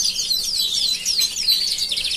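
A yellow-bodied London Fancy Spangleback canary with dark melanin spots sings a rapid, bright, continuous warbling trill up close, uninterrupted for a couple of seconds.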